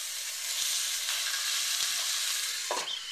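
Chuck roast searing in olive oil in a pan gives a steady close hiss and sizzle, with a few faint scrapes and a short louder flare near the end, no talk.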